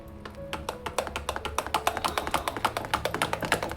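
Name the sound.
mixing sorghum flour dough with water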